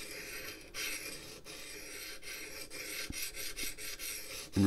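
Hand sharpening of an axe with a water stone worked in both directions: rasping, scraping strokes of stone on steel, a few long passes then shorter quicker ones, close and fairly quiet, without talk.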